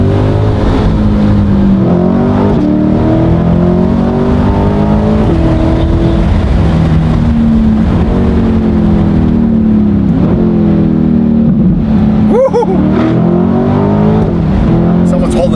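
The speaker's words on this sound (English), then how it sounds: "The titanium exhaust from 316 sounds so good." A supercar with a titanium exhaust revs hard, its engine pitch climbing and dropping through several loud, sustained pulls, with a sharp burst near the end and voices faintly underneath.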